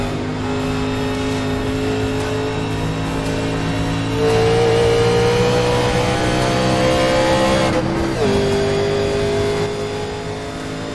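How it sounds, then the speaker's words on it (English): Race car engine rumbling steadily on the track during a warm-up lap at the All Star Open, heard close up from the cockpit, with a rise in revs midway and a brief dip and shift before settling. "As Aaron Brill's going to go out on the track here, take his laps right quick."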